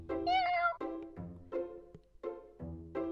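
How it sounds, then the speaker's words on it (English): A cat in the video game Cats Hidden in Italy and Bali meows several times in quick succession, close and clear, each call short and tonal with brief pauses between. "Meow."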